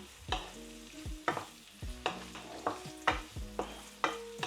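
Ginger browning in oil in a pan for a Filipino pork-bone kinamatisan, stirred in steady scraping strokes roughly every half second over a soft continuous sizzle, close and clear with no talking.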